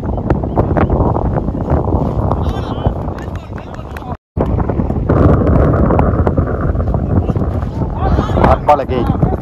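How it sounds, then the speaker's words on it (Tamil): Strong wind buffeting the microphone at an outdoor cricket tournament ground, a loud continuous roaring rumble with a brief dropout midway, while people talk over it. "காற்று அடிக்குது."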